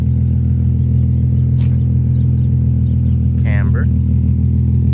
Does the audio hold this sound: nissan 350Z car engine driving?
yes